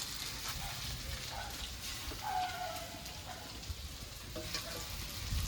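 Chicken sizzles and fries steadily in a hot pan, a close, continuous crackle with occasional soft stirring scrapes as the meat is sautéed for pasta.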